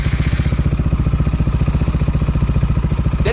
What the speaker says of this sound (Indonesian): Jadi kecenderungannya ini knalpot suaranya ngebas kalau lagi langsam seperti ini.